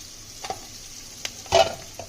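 Onions fry in a pan while a sago khichdi is being cooked: a soft, steady sizzle with a few brief scraping stirs, the strongest a short clatter just past the midpoint, close by and without talk.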